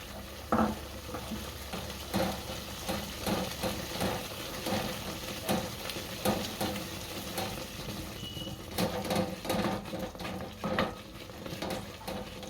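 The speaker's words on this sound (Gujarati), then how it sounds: "અને એકદમ હલાવી નાખવાનું એટલે ગાંઠા ન રહે અંદર" Millet flour being stirred into boiling buttermilk in a pot, a steady scraping and swishing with soft bubbling underneath, close and moderately loud throughout with no talk.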